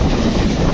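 A train rushes past at full speed while riding aboard the Howrah to Visakhapatnam Superfast Express near a station, a loud, steady rumble and rattle filling the whole moment.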